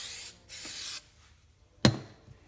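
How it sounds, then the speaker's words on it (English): Prep spray misted onto black car trim in two short hissing bursts, close, followed by a sharp clack. "I'll use prep spray for that"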